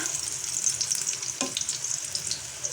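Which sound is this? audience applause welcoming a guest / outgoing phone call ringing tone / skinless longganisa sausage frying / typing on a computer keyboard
skinless longganisa sausage frying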